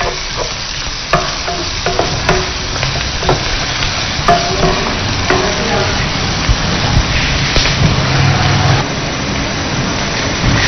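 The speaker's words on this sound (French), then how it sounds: "On va faire dorer les oignons au moins pendant 5 minutes" Onions frying and browning in a pan for a Chadian sorrel-leaf and capitaine fish dish, a steady loud sizzle with crackling pops and the occasional scrape of stirring throughout.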